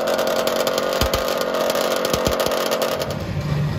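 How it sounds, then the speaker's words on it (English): A vintage two-stroke drag bike engine at a quarter-mile drag racing event buzzes loudly and steadily at high revs, a harsh, raspy drone with a few quick pops. "Nothing quite sounds like a vintage two-stroke drag bike."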